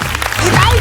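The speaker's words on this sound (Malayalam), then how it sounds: "നല്ലൊരു കൈയടി കൊടുത്തോ." A television comedy show audience gives a brief burst of applause for a comedy team taking the stage, loud clapping mixed with crowd noise and a voice over it.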